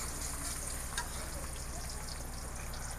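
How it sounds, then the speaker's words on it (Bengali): Onions frying in oil for a taro leaf curry give a soft, even sizzle with a low crackling hiss, fairly faint, with a brief bright tick near the middle. "পেঁয়াজ একটু ভাজানো"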